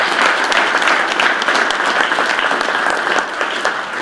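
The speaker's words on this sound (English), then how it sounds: "Please give them all a round of applause." Close, lively applause from the audience at a New England disc golf hall of fame ceremony, with many hands clapping in a dense, continuous patter that stays loud throughout.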